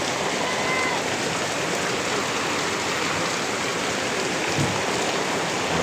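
Heavy rain pours down on a vegetable garden and a leaky roof, a dense, continuous, loud roar of falling water with no breaks.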